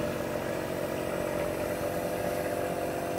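A Harbor Freight half horsepower electric motor running at 1750 RPM drives a smog pump from an 80s or 90s V8 truck, giving a steady, dense, continuous whirring drone with no talking.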